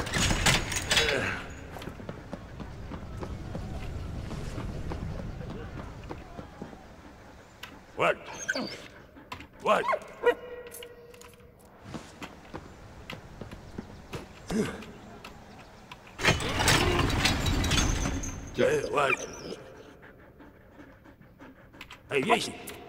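A dog in the war game Valiant Hearts: The Great War pants and whimpers in short, uneven bursts, mixed with game effects and someone talking over it.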